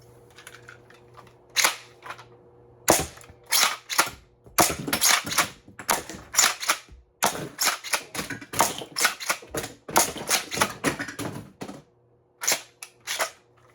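A Battle Axe pump-action Nerf shotgun firing multiple darts per shot, with loud close pops and clacks in rapid irregular bursts, the pump action and shots repeating across the whole stretch with short pauses between volleys.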